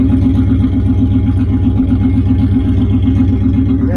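A car engine runs steadily at idle with a low, even mechanical hum and a faint clatter while the car is put into gear after a new trunk pan and gas tank install.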